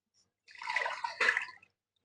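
Water poured from a tumbler into rice in a pot for jackfruit biryani, two short splashing pours in quick succession, close and fairly soft, with no talking.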